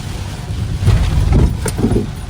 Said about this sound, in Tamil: காற்றும் சரியான காற்று மக்களே,